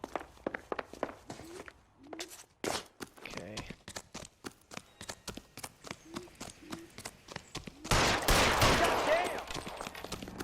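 Gunfire in the detective video game L.A. Noire during a chase: a string of sharp pistol shots at irregular intervals, some spaced, some quick pairs, mixed with footsteps and a voice, ending in a louder burst of noise.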